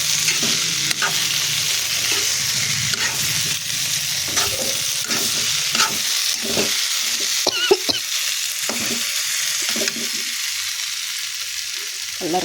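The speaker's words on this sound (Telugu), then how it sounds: "ఇదైతే బాగా వేగింది, చాలా బాగా వేగుతూ ఉంది, ఇంకా వేగాలి." Mixed vegetables sizzle in a hot pan under a steady frying hiss, punctuated by repeated scraping and clattering strokes of a spatula as they are stirred, loud and close with no talking.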